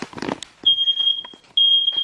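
A shrill, piercing smoke alarm sounds in two long steady tones while onion is cooking, close and loud, with bits of kitchen clatter and movement around them.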